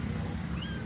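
A cat gives one short, faint meow heard alone from a little distance.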